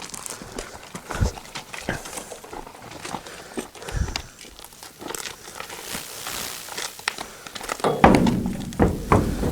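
Hollow thunks and hoof clomps on a trailer floor as a horse is loaded into an angle slant horse trailer, irregular stamps and knocks, some sharp and near, with a busier rattling stretch toward the end.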